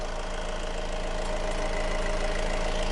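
A warm Honda CR-V engine idles with its mass airflow meter unplugged, a loud, close, steady mechanical hum with a faint rapid knocking texture and no voices.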